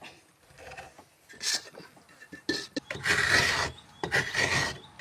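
Coconut flesh being grated by hand, a coarse rasping scrape in bursts of repeated strokes, close and fairly loud, with a quieter start and denser scraping toward the end.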